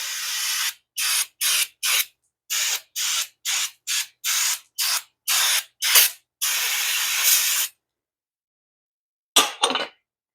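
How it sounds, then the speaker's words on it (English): Brake cleaner is sprayed onto front brake parts of a Dodge Avenger in a series of short, loud aerosol bursts, followed by one long hiss, a pause, then a final few quick sprays, close and without talk. "You want to go all crazy with your brake cleaner on this stuff?"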